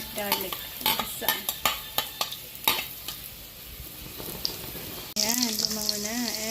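Onion and garlic sautéing in a small amount of oil in a kawali for pork nilaga. Clattering stirring strokes sound over a steady sizzle, with a voice joining near the end.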